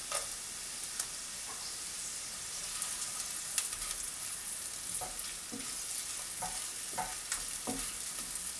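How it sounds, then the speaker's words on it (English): Chopped garlic and onions fry in a pan, a steady quiet sizzle with occasional stirring scrapes and clinks, no voices over it. "once the onions are done, you add the chopped garlic."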